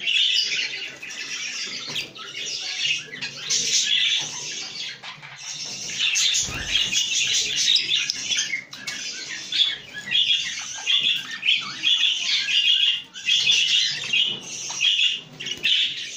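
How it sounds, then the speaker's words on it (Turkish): Cockatiels and budgies in an aviary fill the air with dense, continuous chirping and tweeting, including a courting cockatiel and a calling female, with occasional wing flaps. "Sultan kur yapıyor, dişi çağırıyor."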